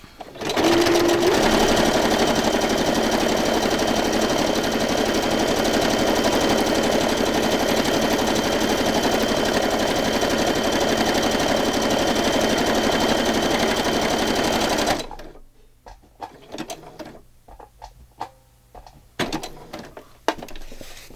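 A sewing machine stitches through a paper journal page in a loud, steady run of rapid needle clatter that lasts about fifteen seconds, then stops abruptly and leaves faint scattered handling noises.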